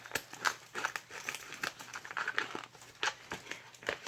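Crinkly plastic food packages being handled and opened up close, a run of irregular rustles and crackles at moderate volume with no talking.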